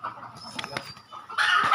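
Chickens clucking around a large two-storey coop at dusk, short scattered clucks close by, ending in a louder rustling burst like flapping wings.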